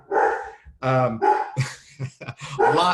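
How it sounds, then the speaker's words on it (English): A dog barks at someone arriving at the door, letting out a rapid run of loud, close yelping barks with brief gaps between them. "somebody's at the door and my dog is barking like crazy"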